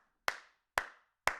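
Sharp, distinct hand claps ring out from a children's action song on a Disneyland Records LP, three of them evenly spaced about half a second apart, each with a short decaying tail and silence between.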